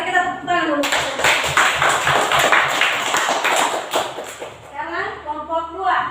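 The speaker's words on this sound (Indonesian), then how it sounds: "Mari kita tepuk tangan dulu." A class of students claps hands together for a group that has just presented, a dense burst of fast clapping lasting a few seconds between stretches of a voice speaking.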